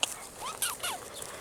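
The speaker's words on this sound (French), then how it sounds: "mon chien, c'est mignon" A small dog gives a few soft yips and whimpering whines, thin and high-pitched, close by in a quiet garden setting with no talk.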